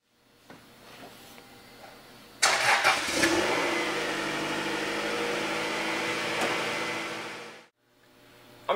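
Stock 1.8-liter inline four-cylinder engine of a 2001 Acura Integra Type R catching and settling into a steady, close idle hum that holds for several seconds before cutting off abruptly.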